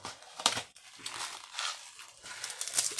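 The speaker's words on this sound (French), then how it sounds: "je vais vous les déballer un par un" Scrapbooking kits being unwrapped from their plastic packaging, with close crinkling and tearing bursts that come and go over a few seconds.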